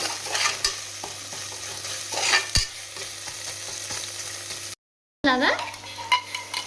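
Onions fry toward brown in a pan for chicken biryani, a close, steady sizzle broken by several sharp utensil scrapes and knocks against the pan, with a short silent break.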